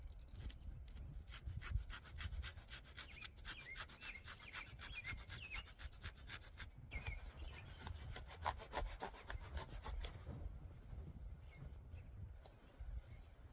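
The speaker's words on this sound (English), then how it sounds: "Now I'm going to slice down just about the width I want that button." A knife slicing down into a pinky-thick wooden branch to form a button, heard as a fast, steady series of rasping strokes throughout, close and fairly quiet with outdoor rumble underneath.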